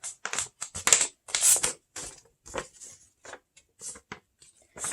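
Sheets of paper folded in half and creased by hand while making a zine, a series of short crisp rustles and scrapes, close and fairly quiet, with brief pauses between strokes and no talking.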